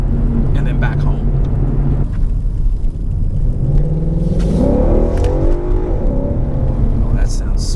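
A Ford Mustang GT engine growls loud and close as it accelerates, the rising rev sweeping upward with steady rumble throughout, with a voice speaking over it.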